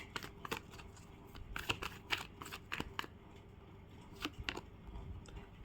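A tarot card is drawn from the deck with a series of soft, papery snaps and slides, irregular small clicks and rustles scattered across several seconds, close and quiet with no talking.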